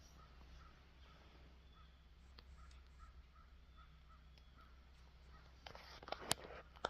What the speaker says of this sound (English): The crows are cawing.